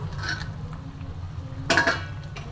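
Cabbage with fried and soaked bori being stirred in a pan, giving a few soft scraping clinks and one louder burst of utensil scraping against metal near the end, over a low steady background hum.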